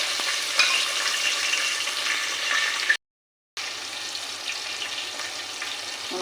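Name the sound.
green chillies and tempering seeds frying in oil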